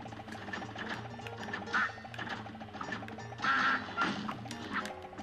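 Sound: duck quacking in Cuphead video game

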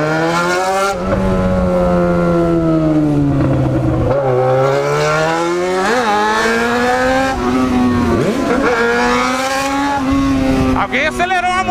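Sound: powerful motorcycle accelerating

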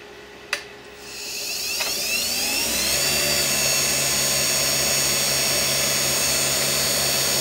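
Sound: wood lathe turning an acrylic and stabilised wood pen blank

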